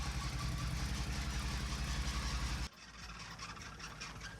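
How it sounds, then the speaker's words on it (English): A barn-find 1979 Opel Monza Series 1 engine runs rough and misfires with an uneven, knocking throb at close range, then cuts abruptly to a quieter, lower idle. "And it's misfiring horrifically."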